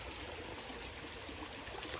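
Creek water flowing steadily, a constant soft rushing with no breaks, faint and close, with no voices.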